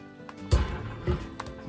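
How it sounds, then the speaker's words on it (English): A heavy metal wood-stove door thuds shut, followed by a second dull clunk as the latch settles. "Okay, I'll close the door"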